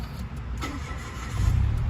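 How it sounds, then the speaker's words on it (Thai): A 2013 Mitsubishi Mirage 1.2-litre engine cranks and catches, settling into a steady low rumble that grows slightly louder toward the end. "สตาร์ทเครื่องได้เลยนะครับผม จะได้ฟังเสียงเครื่องนะครับว่าเพราะขนาดไหนนะครับ"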